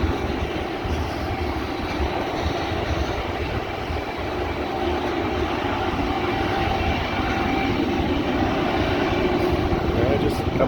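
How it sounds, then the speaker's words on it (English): Coal train on the B&O Old Mainline near Mt Airy, Maryland, led by GE Evolution diesel locomotives at full throttle in notch 8: a loud, steady engine roar with a high turbocharger whine, continuous throughout, with a voice talking over it. "Definitely notched up in notch 8. Turbos are singing away."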